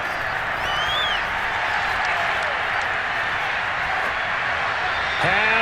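A stadium crowd at a football game between the New York Giants and Atlanta applauds and cheers a defensive play, a broad steady roar of clapping under a commentator's voice.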